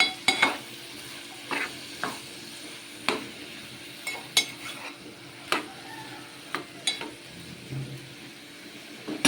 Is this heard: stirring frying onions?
yes